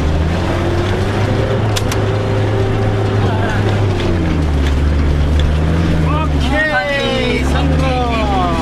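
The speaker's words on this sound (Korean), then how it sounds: "힘찬 엔진 소리와 함께 오르기 시작했다" A vehicle engine roars loudly and steadily while climbing a hill, its deep drone persisting throughout as voices talk and shout over it.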